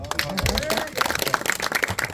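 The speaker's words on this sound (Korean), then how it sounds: "여기 장정서 박수 한번 칩시다" Audience clapping at an 80th birthday party, a patter of hand claps running through the whole stretch at moderate distance while a host keeps talking over it.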